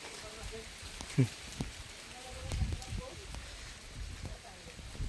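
Steady rain after a night of downpour patters on a surface beside farm fields, with a few louder drops and thuds and faint background voices.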